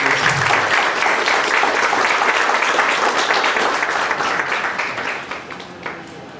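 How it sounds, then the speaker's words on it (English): A big round of applause from the audience at a study circle meeting as a memento is handed over: dense, sustained clapping that carries steadily for several seconds and then thins out toward the end. "Can we have a big round of applause"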